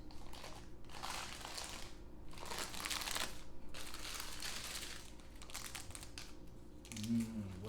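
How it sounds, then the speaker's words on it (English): Parchment paper sliding and crinkling as it is pulled out from under a cake set on a cake board, quiet rustling bursts that come and go over several seconds. "I'm going to just set it straight on my cake board and then slip off the parchment"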